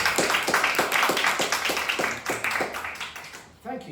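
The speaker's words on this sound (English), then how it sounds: "Nottingham round of applause?" Audience applause in a forum hall in Nottingham, dense steady clapping from a crowd that carries on for several seconds before thinning out near the end, with a voice breaking in at the close.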